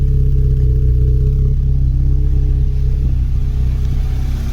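A Vauxhall Cavalier engine idles steadily through a cheap Euroflow exhaust, a loud, close, continuous low rumble with a slight rhythmic pulse and no one speaking.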